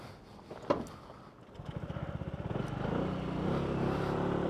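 A SYM ADX 125 motorcycle engine, still being broken in, idles, then putters at low revs with a steady pulsing rhythm, close and moderately loud, after a brief click early on.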